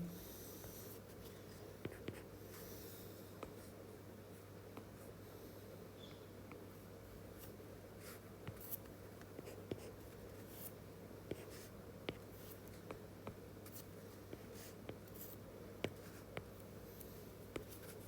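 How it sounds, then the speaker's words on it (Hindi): A pen writes during a chemistry lesson, with faint, sporadic scratchy strokes and small taps spread over a quiet background hum, close but very soft, no speech. "इसको मैं थोड़ा दूसरे पेन से लिख देता हूँ"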